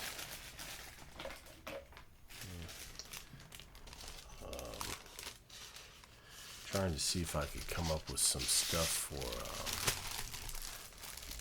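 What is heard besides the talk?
crumpling wax paper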